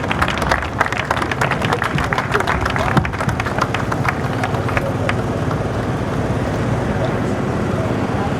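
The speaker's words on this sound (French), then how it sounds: "Merci d'applaudir pour ce moment, mesdames et messieurs, s'il vous plaît." Audience applause at a film festival award ceremony for the Thomas Sankara Prize, a crowd clapping steadily in a large hall with crowd murmur mixed in, tapering off slightly toward the end.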